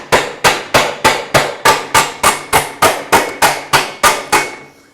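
Hammer blows on an aluminum sheet being shaped into a café racer motorcycle fender, about fourteen sharp metallic strikes in a steady, even rhythm, close and loud with a short ring after each hit, no talking.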